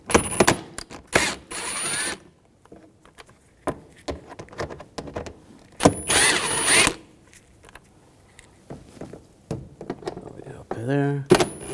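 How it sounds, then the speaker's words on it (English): A T25 socket backs out screws from the inner fender well of a 2011–2018 Volkswagen Jetta TDI wagon, producing short bursts of tool whirring and ratcheting separated by pauses, with brief clatter near the end. "Now we're going to take these screws out on the inner fender well, use a T25 socket, take these out."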